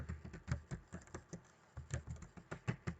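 Fingers type on a computer keyboard while editing text in an online design, a quick, uneven patter of close, soft key clicks with a brief pause midway.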